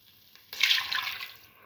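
Dissolved jaggery sugar water being poured into a pot while making a sweet pigeon pea rice dish, a brief liquid splash and pour that starts suddenly and fades within a second, with no talking.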